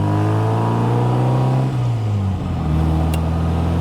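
1960 Bugeye Sprite engine heard from inside while driving, a loud close drone rising in pitch, then dropping sharply as the revs fall off before climbing again steadily.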